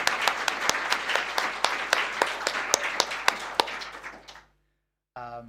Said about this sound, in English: let's just do a quick round of applause for the conference organizers